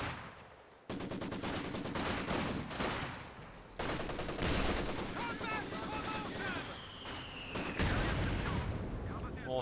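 Heavy gunfire in the video game Company of Heroes 2: dense, continuous machine-gun bursts and rifle shots layered with booming explosions, loud and sustained through the whole stretch, with a whistling incoming shell near the end.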